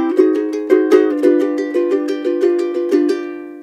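Ukulele strummed with a thumb roll triple technique, close and bright, chords ringing in a steady rolling three-beat strum pattern with no voice over it.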